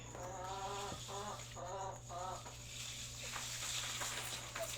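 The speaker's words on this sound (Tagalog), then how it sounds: "ang ingay ng manok" Chickens cluck in a series of short harmonic bursts early on, then fainter calls over a steady low farmyard hum.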